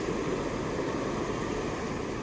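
Steady, broad washing noise of sea waves at a beach at night, a continuous soft roar heard alone without distinct breaks.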